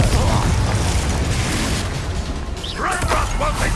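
Confringo blasting spell in Hogwarts Legacy: loud, continuous explosive rumble and crashing with bursts of debris, close and sustained, with a brief whooshing flurry near the end.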